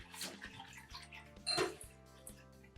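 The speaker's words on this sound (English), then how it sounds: "I will now add another cup of water in it" Water poured into a bowl of soaking chia seeds for alouda, a Mauritian summer drink, splashing and trickling in short bursts with a louder gush midway and faint clinks of the container.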